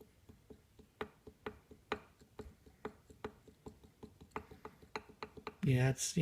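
A used turbocharger's shaft wiggled in and out by hand to check for excessive play, giving a series of sharp, evenly spaced metallic ticks and clicks up close, quiet overall, ending in a brief louder burst.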